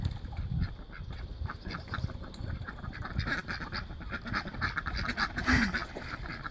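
A flock of ducks quacks excitedly and continuously at a moderate distance, with overlapping calls and a few louder honks rising out of the noisy mix, and no talking.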